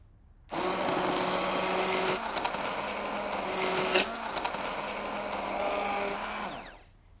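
A steady, loud motorized whirring runs for several seconds without pause, then cuts off abruptly: a hand blender blending sausage soup.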